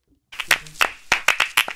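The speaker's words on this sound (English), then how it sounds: "any song we're clapping on" A few people clap close by, about eight sharp, slightly uneven claps in a loose rhythm, with no other sound around them.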